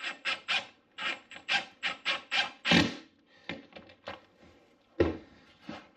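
Pocket screws driven into wood with a power driver, a series of short grinding, rasping bursts with gaps between them, close and fairly loud, with no talk.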